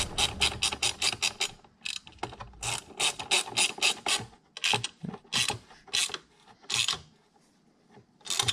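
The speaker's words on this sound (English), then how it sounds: "you get your ratchet and your 10mm socket. Stick it on there, those nuts" A ratchet with a 10mm socket tightening exhaust nuts during a Vance & Hines exhaust install on a Honda Navi, giving repeated rapid clicking bursts in quick, uneven strokes, close and fairly loud, with no talk.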